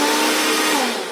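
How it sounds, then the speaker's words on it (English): A hairdryer blows air into a stud partition cavity, a loud, steady, close whirring roar that holds evenly and eases slightly at the end. "So to test this, I can show them using a hairdryer."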